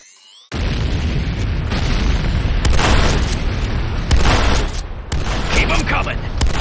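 Loud, dense explosion rumble from a destroyed structure in the game Renegade, sustained booms and bursts with mixed gunfire-like pops over several seconds.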